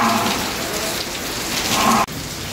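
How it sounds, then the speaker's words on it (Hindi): Heavy rain pouring down outdoors, a loud continuous dense hiss of drops striking surfaces with a brief dip near the end, no voices. "बहुत तकड़ी बारिश हो रही है।"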